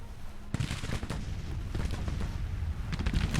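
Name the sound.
gunfire and artillery in a video game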